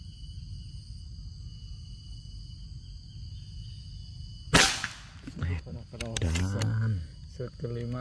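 A sharp, loud single crack from an HX air rifle fired outdoors while hunting sparrows, standing out against steady insect and bird ambience, followed right away by people talking.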